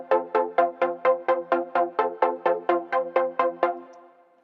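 Rhythmic synth chords for a house beat, distortion switched off, pulse in fifteen evenly spaced plucky stabs with clean harmonic tones, each decaying quickly, the last ones trailing off into a soft fade.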